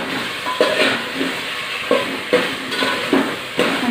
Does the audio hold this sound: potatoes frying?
yes